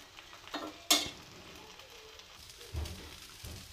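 Suji chilla batter frying in oil in a pan, a soft low sizzle with a sharp crackling burst near the start and a couple of quieter bubbling swells later, close by and without talk.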